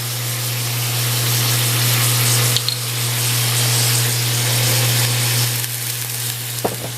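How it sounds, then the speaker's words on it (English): Pork stir fry sizzling steadily in a hot pan as sherry is poured in, a broad continuous frying hiss with a low hum underneath and a brief clink near the end, no voices. "I'm going to go ahead and add some sherry to that as well"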